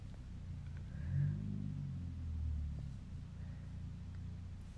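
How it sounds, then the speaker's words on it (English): A low car engine rumbles steadily, swelling twice as it revs, muffled and fairly close with no voices. "it's a very loud car."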